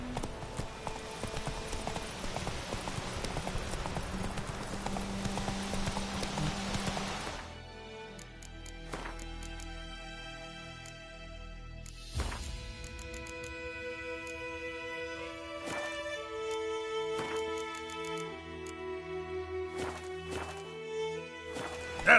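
Geralt's horse Roach from The Witcher 3 trots with steady clip-clopping hooves, moderately close, under a layer of game music that swells and shifts partway through.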